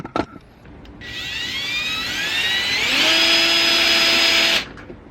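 A cordless power drill drives a screw into the front lip of a budget Mazda Miata: one close, loud burst of about three and a half seconds, its whine climbing in pitch then holding steady before stopping abruptly, with no talking.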